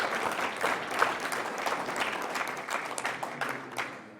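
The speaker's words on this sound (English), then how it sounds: "So let's have a final round of applause." An audience at a wind turbine conference at Stockton University in Atlantic City gives a final round of applause, dense steady clapping from a moderate-sized crowd that sounds a little distant and lasts the full length.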